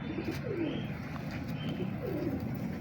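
A pedigree pigeon gives two low, swelling coos, one early and one later, close by over a soft steady background.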